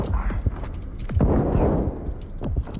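Gunfire in the first-person shooter Stalker 2: several muffled shots and impacts in irregular bursts, some single and some doubled, thudding over a dense, rumbling game background.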